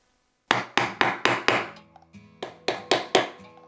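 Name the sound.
hammering aluminium can with hammer and stick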